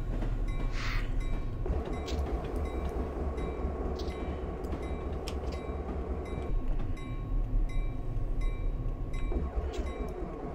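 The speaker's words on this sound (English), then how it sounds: "I got a GP38 DPU on the rear of that train." A freight train of centerbeam cars on Stevens Pass rumbles steadily in Train Simulator 2019, with a continuous rolling roar, rhythmic wheel clatter and faint tonal squeals throughout, loud and close with no talk.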